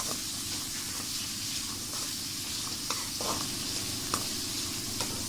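Steady loud hissing sizzle of ingredients sautéing in hot sesame oil for dried fish kuzhambu, with a few faint clicks of stirring on top, close and continuous, no voices.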